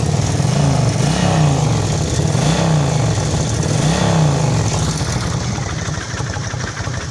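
A 2008 Kawasaki Vulcan 1600 Classic motorcycle engine runs steadily up close, its low exhaust note rising and falling in a few gentle revs before settling.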